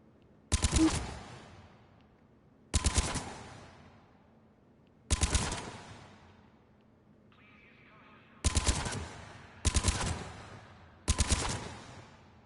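Gunfire in the video game Mass Effect 3 comes in six short rapid bursts spaced a few seconds apart, each loud and sharp with quick decaying echoes between.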